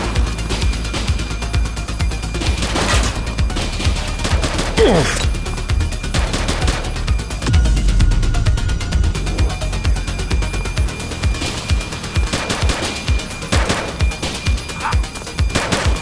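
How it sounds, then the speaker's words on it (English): Gunfire in The Precinct, a police video game: loud, close shots in rapid clusters and bursts, spaced with short gaps, over dense action noise. "Shots fired!"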